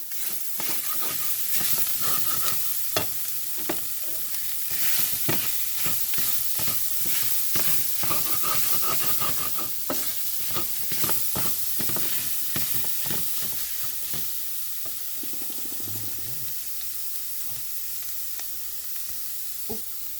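Semolina being stirred into a hot frying pan makes a run of scraping strokes over a continuous sizzle, a fairly even rhythm that softens toward the end.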